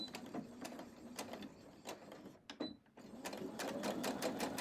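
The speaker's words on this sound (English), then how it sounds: "Take this to the machine, of course, quarter-inch seam allowance, back stitch on that fold." A sewing machine runs quickly while stitching a quarter-inch seam on a fabric quilt block, giving a steady mechanical whir with rapid needle ticks, a brief pause partway through and then faster stitching, close and clear.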